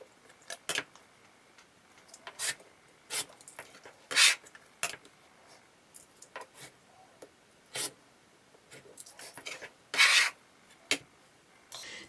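Quilt blocks being trimmed with a cutter along a ruler: scattered short scraping strokes and sharp cutting swipes, with a few louder slices among quieter rubs, close and fairly faint, no voices.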